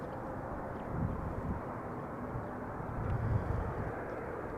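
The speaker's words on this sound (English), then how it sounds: "It is a 737 from Ryanair, arriving from Dublin, flight 420." A Ryanair Boeing 737 arriving at Amsterdam Schiphol Airport gives a broad, steady roar of jet engine noise at a distance, swelling slightly twice, with no speech.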